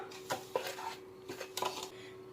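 A spoon clinks and scrapes against a bowl while cocoa powder is being mixed, producing a few faint, short metallic taps over a steady low hum.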